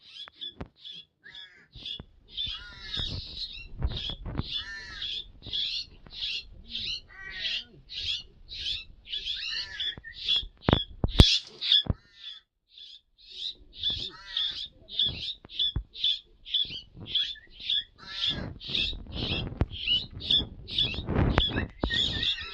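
Hungry pet birds at feeding time call out in repeated harsh, rasping squawks, close and loud in dense overlapping bursts, with brief pauses and some handling noise between calls.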